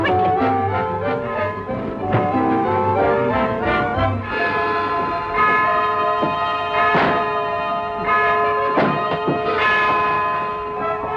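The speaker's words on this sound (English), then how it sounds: "The church bell." Church bell ringing in a 1940 film, a rich clanging peal with repeated strikes and long ringing overtones sounding loud and continuous, with no talk.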